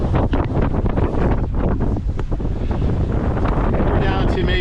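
A sailboat running under full sail with headsail and staysail set in strong wind, steady loud wind rush buffeting close over the microphone with water noise beneath, no talk.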